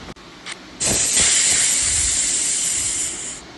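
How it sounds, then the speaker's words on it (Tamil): After a couple of small clicks, a pressure cooker cooking sambar lets out a loud, steady hiss of venting steam that lasts a few seconds and then cuts off. "இப்போது 4 விசில் அடிச்சிருச்சு, ப்ரெஷரும் ரிலீஸ் ஆகிடுச்சு"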